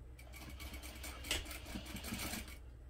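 A sewing machine runs continuously, stitching a seam in a bag lining, with a steady mechanical whirring hum from start to finish that stops just at the end.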